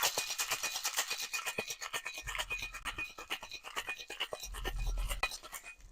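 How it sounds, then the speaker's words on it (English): Rum punch with ice being shaken hard in a sealed metal shaker tin, a steady rapid rattling and scraping rhythm that continues throughout at close range. "Put your tin in, smack it to seal it, and then give it a good shake."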